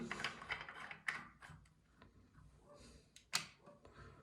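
A repaired LED bulb is screwed into its socket with small, close scraping clicks and ratcheting twists, faint and irregular, with a few sharper ticks as the threads catch.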